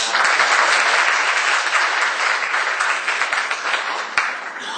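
An audience at a school album launch in Thailand claps loudly and steadily, a dense wash of applause holding for several seconds before easing slightly at the end.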